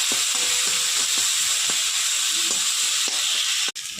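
Onion and ginger-garlic paste sizzle and fry in a hot pan, a steady close hiss with light stirring clicks and scrapes throughout, no voices.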